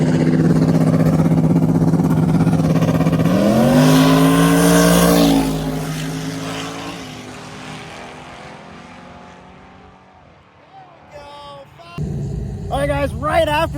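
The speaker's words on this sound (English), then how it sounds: "Let's see what this Camaro can do." Camaro drag car on radial tires launching down the strip, a loud rising engine roar that climbs in pitch then fades into the distance, followed by voices talking close by.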